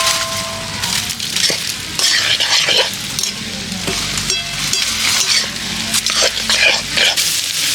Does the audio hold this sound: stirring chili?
yes